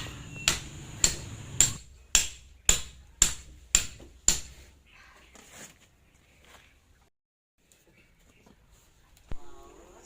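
A hammer pounds through the roots of a Selloum plant in eight sharp, evenly spaced strikes, loud and close, followed by quieter rustling and a lone knock.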